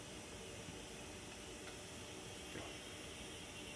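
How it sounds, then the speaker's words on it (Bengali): Water coming to a boil in an electric kettle, a faint steady hiss and rushing simmer with no breaks, heard alone at low level. "বন্ধুরা, আপনারা হয়তো শব্দ শুনতে পাচ্ছেন, পানিটা কিন্তু হয়ে এসছে বলা যায়। কিছুক্ষণের মধ্যেই পানি বলক ফুটবে।"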